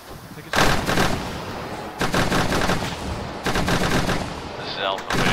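Sustained suppressing fire in Arma 3, with long automatic bursts hammering in several heavy stretches separated by brief lulls, loud and close.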